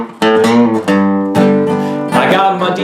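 Low, twangy guitar notes picked in a short riff, several distinct plucks ringing out one after another, clear and close with no talking.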